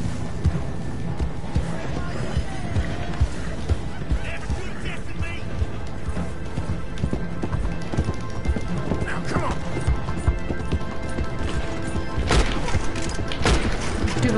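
Horse hooves clip-clopping at a gallop in the video game Red Dead Redemption 2, a dense steady drumming under loud game noise and someone talking throughout, with a crash near the end.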